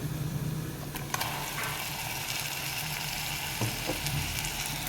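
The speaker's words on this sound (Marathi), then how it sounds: "आणि हे छान तेल सुटेपर्यंत परतून घ्यायचं आहे" Ground spice paste sautéing in oil with onion for a simple eggplant and potato curry, a low steady sizzle with a few sharp spoon clinks and scrapes against the pan, close by, no talking.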